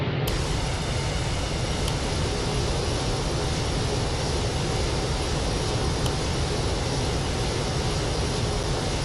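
A Boeing 747-400's engines hold a steady, loud, broadband whine and rumble from inside the cabin before takeoff, constant throughout with a couple of faint clicks.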